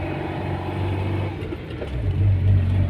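A Tofaş car climbs a steep hill in low gear with a steady, close engine drone and rumble that swells slightly toward the end as the load increases.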